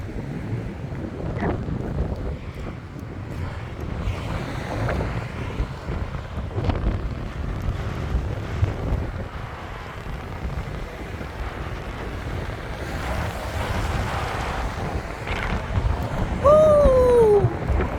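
Rough sea and strong cold wind at the Wellington waterfront, a continuous blustery rumble of wind buffeting the microphone over churning water, with a brief high call near the end.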